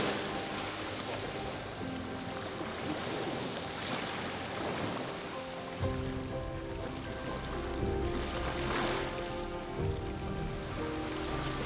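Steady rain falls over the sea during a fishing trip in the Aegean off Astypalea, a continuous hiss of drops on water and surfaces blending with lapping waves and wind, fairly loud and unbroken, with no voices.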